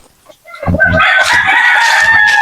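A native chicken rooster crows loudly and close, one long drawn-out call after a few clucks, ringing clearly over a quiet morning farmyard.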